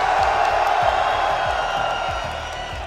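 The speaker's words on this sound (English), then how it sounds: "make some noise if you still believe in Navi" An arena crowd at a Counter-Strike tournament in Lisbon cheers and screams in a loud, continuous roar that holds steady throughout the moment.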